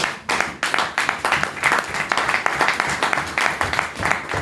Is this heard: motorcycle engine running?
no